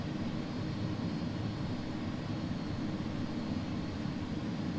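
An iniBuilds A300 taxis in the X-Plane 11 flight simulator, its jet engines giving a steady, loud, unbroken roaring drone throughout with no talking.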